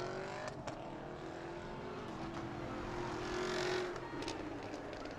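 A Subaru and a Camaro race on a short oval track at a family fun night, their engines droning steadily at a distance with a rising, sustained tone that swells briefly before settling.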